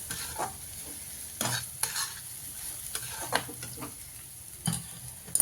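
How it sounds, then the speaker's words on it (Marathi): Chapati crumble is stirred in a pan after salt is added: soft, close scraping strokes at an irregular pace over a faint, steady sizzle. "मीठ घातल्यानंतर त्याला हलवून घेऊ"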